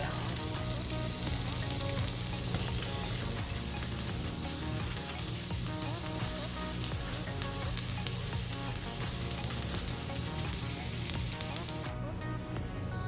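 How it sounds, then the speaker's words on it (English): Frozen mixed vegetables fry in a skillet for fried rice, giving a steady, loud, continuous sizzle with stirring scrapes throughout and no talk. "Get those nice and stirred in there, and they'll cook right in the pan."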